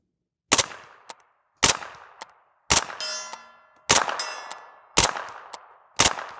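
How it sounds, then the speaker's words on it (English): An MP5 fitted with a SilencerCo Omega 9K suppressor fires six sharp, single shots at about one-second intervals at an outdoor range, with metallic clangs and short ringing tails after some shots. "Let's check out this MP5 and see how she sounds."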